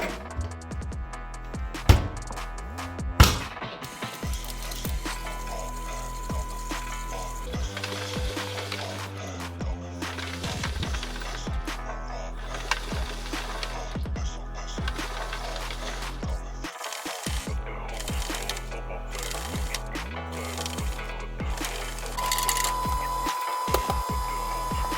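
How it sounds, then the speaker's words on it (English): Washing machine running a cycle with a G-Shock watch tumbling inside, a continuous mechanical churn with irregular knocks and clatters, a couple of sharper bangs early on, steady and close. "Time for the washing machine test once again."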